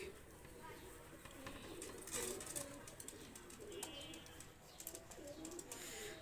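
Pakistani high-flyer pigeons cooing and fluttering nearby, soft low calls repeating over faint background noise and occasional wing flaps.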